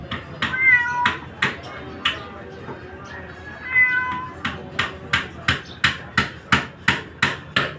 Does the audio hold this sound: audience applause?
no